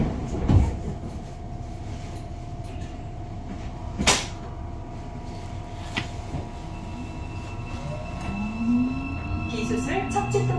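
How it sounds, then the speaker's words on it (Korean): A Shinbundang Line subway train closes its doors with a few sharp thumps and clunks, then the electric VVVF motor whine rises as it pulls away from Gwanggyo, over a steady rumbling cabin hum. "열차가 곧 출발합니다. 출입문 닫겠습니다."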